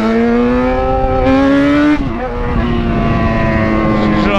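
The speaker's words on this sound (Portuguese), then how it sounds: "escapão estralando, dando aquele pipoco no contra" Yamaha XJ6 motorcycle exhaust revving hard, loud and close, with rising and falling engine tones and a dip in revs partway through, with no talk.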